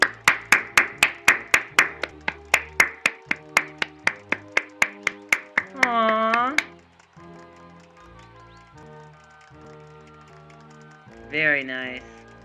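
Game-style clapping at a wedding in the video game Tomodachi Life: a run of about twenty crisp, evenly spaced claps over light music, followed by two short cheering vocal bursts from the game.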